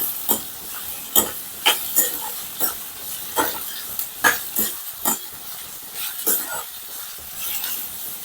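Onions and prawn masala stirred in hot oil in a pan, a spoon scraping in irregular strokes over a soft, steady sizzle, close and fairly quiet with no talking.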